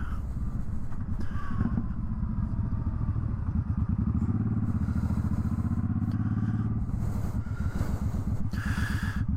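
Suzuki Boulevard M50 cruiser motorcycle engine heard while riding, a deep throbbing exhaust note that rises and falls through gear changes, with wind buffeting and a steady rumble close to the mic.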